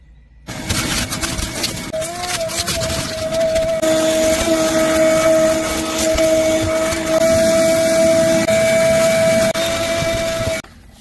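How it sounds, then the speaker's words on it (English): A vacuum cleaner runs inside a gold prospector's car, a loud, steady close-up roar with a high whine that holds for about ten seconds, shifting slightly as the nozzle moves, then cuts off. "We got a vacuum out here."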